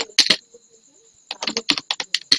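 Keys clattering on a computer keyboard, close and crisp: two quick taps, a pause, then a rapid irregular run of keystrokes, with no talk.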